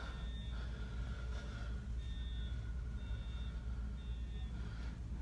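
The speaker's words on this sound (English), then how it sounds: "Boy, that fire alarm keeps on going off over there." Fire alarm sounding repeatedly in Midvale, Utah: short, steady high-pitched electronic tones that recur about once a second, moderately loud over a constant low rumble of background noise.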